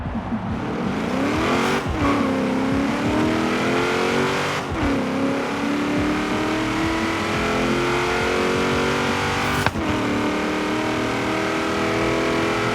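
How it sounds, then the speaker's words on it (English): Chevy SS with an LS3 V8 at full throttle, loud rising engine roar through repeated gear pulls, with brief breaks at each shift. "You might be asking, how on earth does the Chevy SS sound this good?"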